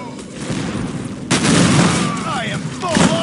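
Gunfire in Unreal Tournament 2004 with the Ballistic Weapons mod, loud close shots and booming blasts over a dense, noisy game mix, with a voice talking through it.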